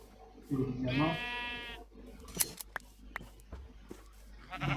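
A sheep in the video game Minecraft gives a clear, wavering bleat with strong harmonic layers. It rises briefly out of a quiet background that holds a few soft clicks and game sounds, and no one speaks over it.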